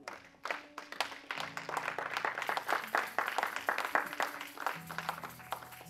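A church congregation claps and cheers together, a dense, steady patter of many hands rising and falling across the whole stretch, with a low sustained tone underneath.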